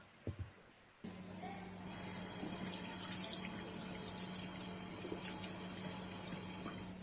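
Tap water runs in a steady, continuous stream into a sink during hand washing, starting after a couple of brief knocks and flowing on unchanged.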